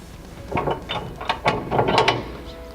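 A Fastway locking security pin being pushed and locked into a ball mount, a short run of close metallic ratcheting clicks that quicken toward the end.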